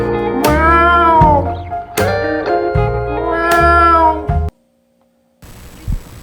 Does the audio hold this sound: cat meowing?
yes